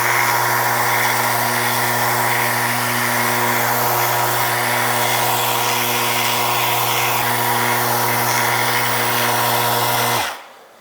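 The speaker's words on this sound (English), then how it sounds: "this is one of the only times I turn the speed down on my sander. I have it about half speed." A power sander runs steadily at about half speed on a wood surface, giving a continuous whirring drone with a strong low hum, close and loud, then cutting off sharply near the end.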